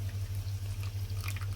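Water is poured into condensed cream of mushroom soup sauce, giving a soft continuous liquid pour with a faint trickle over a low steady hum, quiet and close.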